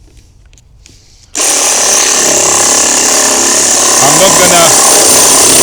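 Ozito PXRSS-400 cordless reciprocating saw cutting a hollow steel bar about 15 mm across with 2 mm walls, starting abruptly after a brief quiet moment and then running loud and steady with a harsh rasping buzz, with a voice briefly speaking over it.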